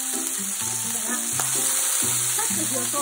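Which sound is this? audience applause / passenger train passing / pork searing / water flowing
pork searing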